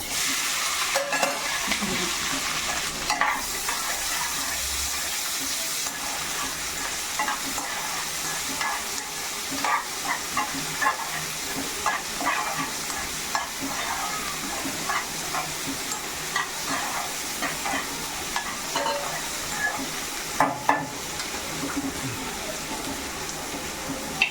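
Asafoetida, green chilli, garlic and onion sizzle steadily in hot oil for a tempering, with continuous loud frying crackle and occasional stirring scrapes and sharp pops throughout.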